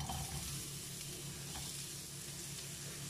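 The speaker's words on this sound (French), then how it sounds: "Nous allons pouvoir commencer par mettre les oignons." Chopped onions hit a hot frying pan and sizzle steadily, a soft, continuous crackle close by with no voices over it.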